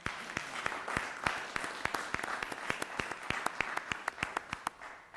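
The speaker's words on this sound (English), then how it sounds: "if we could give a quick round of applause to Dr. Morgan" A modest crowd at a city council meeting claps for a departing doctor, each hand strike sharp and distinct in a fairly steady rhythm, fairly faint and unbroken by talk.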